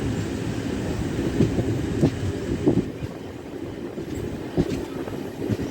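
A DEMU passenger train departs Devarkadra Junction in India, with a steady rumble and rhythmic wheel clicks over rail joints, heard close and continuous with no voices.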